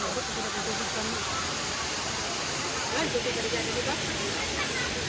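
Tinago Falls in Iligan, Lanao del Norte pours as a loud, continuous broadband roar of rushing water close by. Faint voices can be heard underneath it.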